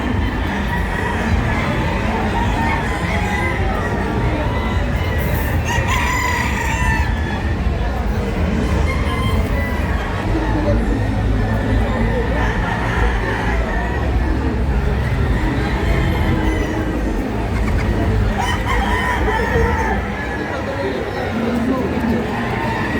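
Chickens and roosters in a glass-walled pen at a crowded fowl gathering, with clucking and crowing mixed into dense crowd chatter and a steady background roar throughout.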